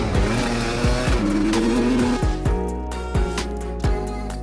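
Racing karts at the Kartodromo track in Portimao, engines buzzing and revving loudly with repeated sharp pitch swoops as karts pass close by, rising and falling in waves.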